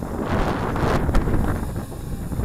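Steady wind gusting outdoors during a flight test of an MJX Bugs 3 Pro brushless GPS drone, a loud continuous low buffeting rumble that holds level across the whole stretch with no voices.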